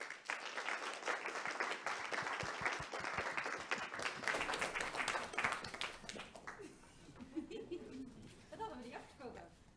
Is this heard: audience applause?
yes